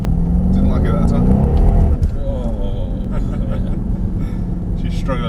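Mercedes-AMG SL63 launching at full throttle on a race track, a loud deep engine roar and rumble building over the first two seconds, then settling into a steadier lower drone while someone talks over it.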